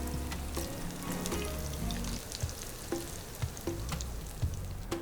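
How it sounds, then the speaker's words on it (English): Chopped onions fry in a hot pan until golden and crispy, giving a steady, loud sizzle with occasional clacks and scrapes from stirring; no one speaks. "Our onions are cooked, they're golden,"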